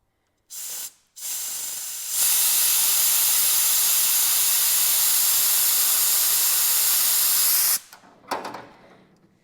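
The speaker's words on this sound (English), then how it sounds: "when I put air to it, it should blast all that brake clean all the way through" Compressed air blasting brake cleaner through the fuel line of an old Jeep flatfender: two short hissing bursts, then a long, loud, steady spraying hiss of about six seconds that cuts off, followed by a few brief puffs.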